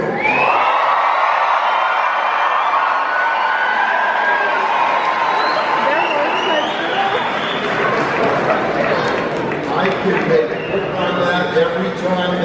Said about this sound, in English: it's always the parents and the family members that cheer the loudest